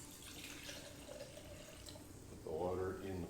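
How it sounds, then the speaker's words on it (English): Water trickles into a cup beside a freshly lit stove, quietly at first, then with a rising, fuller fill near the end, while someone talks over it. "Put the water in the cup and put the cup on here."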